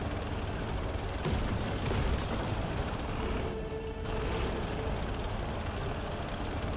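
A truck driving in the war video game Call to Arms: Gates of Hell, a steady low engine rumble with dense broadband noise and faint distant booms, continuous throughout, no talk.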